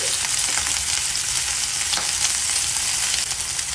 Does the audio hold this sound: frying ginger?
yes